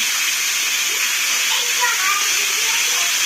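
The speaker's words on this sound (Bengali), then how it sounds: "তেলটা গরম হয়ে গেছে আমি এখানে মাছ ভাজাটা বসিয়ে দেবো" Steady, loud sizzling hiss of fish frying in hot oil on a gas stove, continuing unbroken throughout with only faint background sounds.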